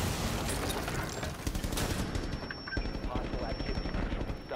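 Rapid automatic gunfire from Rainbow Six Siege, a dense, loud burst of shots running throughout with overlapping bangs, briefly mixed with talk over a steady high electronic tone.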